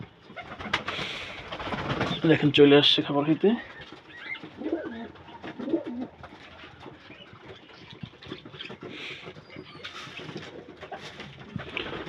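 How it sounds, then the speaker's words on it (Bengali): Domestic and racer pigeons coo in a small backyard loft, with low throaty calls repeating close by while someone talks over them. "আমার এই জায়গায় দেশি কবুতর আছে, তারপরে রেসার কবুতর আছে"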